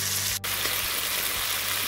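Chicken breast searing in a deep pan, a loud, close, even sizzle of frying meat that runs continuously, broken only by one brief dip, with no voices.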